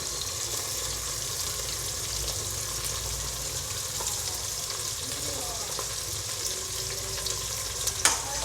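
Onions frying in a pan for corn paneer pulao give a steady, close sizzle that runs unbroken, with faint clinks of stirring and a sharper knock near the end.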